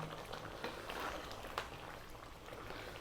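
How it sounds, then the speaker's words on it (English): Lamb stew simmering in a pot, a quiet steady bubbling texture with a few soft pops, near and faint, no talk. "We're going to turn the heat down to a simmer now."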